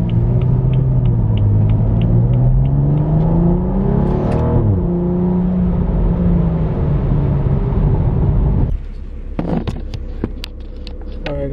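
A BMW F30 with a freshly flashed transmission control unit drives past with a loud, close engine drone that rises and falls through gear changes, then drops to a lower idle-like rumble with a few clicks near the end.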